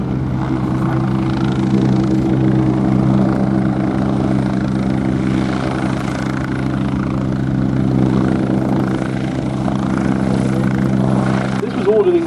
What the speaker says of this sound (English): starting its display is the army cousin of the Wasp that we saw displaying not long ago in the form of the Westland Scout